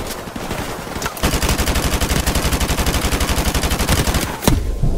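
Sustained automatic gunfire in the shooter game Call of Duty Modern Warfare Remastered, a loud, rapid, steady rattle of shots with a brief sharp burst near the end, no speech.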